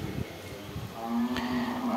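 A cow on a cattle ranch in El Salvador, among Jerhol-breed stock, lets out one loud, drawn-out moo nearby, following some rustling farmyard background noise.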